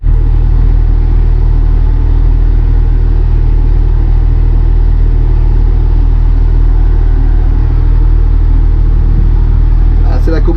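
Vineyard tractor engine cruising at 6 km/h, pulling a 1000-litre Berthoud sprayer between vine rows planted 2.5 m apart, a steady loud low rumble throughout with a voice speaking over it.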